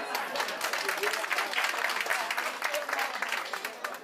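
Audience applause rises at a memorial service, a steady dense patter of many hands clapping at moderate volume for the whole stretch.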